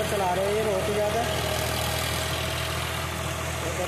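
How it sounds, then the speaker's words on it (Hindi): An ACE DI 854 32 hp tractor works a 7-foot Oswal rotavator, tilling sticky clay soil before wheat sowing. Its steady, loud diesel drone runs unbroken throughout, with faint voices in the mix. "ये रोटावेटर पर चला रहे हैं। 7 फुटा रोटावेटर है ओसवाल का।"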